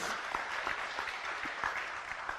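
A seated audience claps steadily during a talk, moderate applause with scattered individual claps standing out, fairly close and even throughout.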